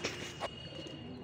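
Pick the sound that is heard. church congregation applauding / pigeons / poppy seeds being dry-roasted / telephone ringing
pigeons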